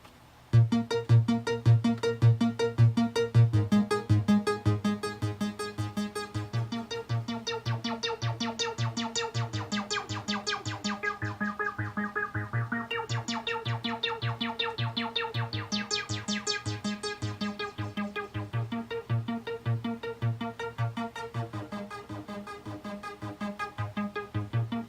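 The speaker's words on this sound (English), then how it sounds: "the classic acid house bass line" A buzzy, resonant acid house synth bass pulses in a fast repeating pattern, its filter sweeping open and closed, steady and loud throughout.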